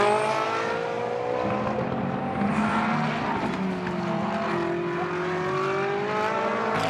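A Ferrari 333 GT race car laps the Moscow track during Blancpain Sprint Series free practice. Its engine holds a loud, continuous, close howl whose pitch rises and falls through gear changes.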